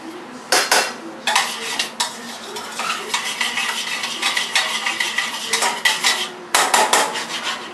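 Metal tongs clatter and scrape repeatedly against a pan of reducing white wine, with bursts of rattling and stirring over a faint simmer and no voices.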